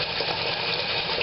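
Tap water from a sink pours steadily into a bottle during a diffuser demonstration, a continuous, dense gushing and splashing with no pauses, close and fairly loud.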